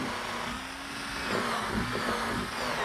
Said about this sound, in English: I'm easing the ends and the front edge of the top with a portion of a 1/4-inch radius